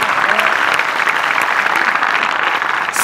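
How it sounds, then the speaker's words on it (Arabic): A live studio audience at a comedy stand-up talent show claps loudly and continuously, a dense, even wash of applause filling the room throughout. "نبغي تحياتنا لهم تحت تصفيقات الجمهور الحاضر معنا"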